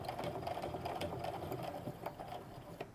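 Sewing machine stitching back and forth across a bag strap on a DIY crossbody sling, a steady close mechanical whir with faint repeating needle ticks, no voices.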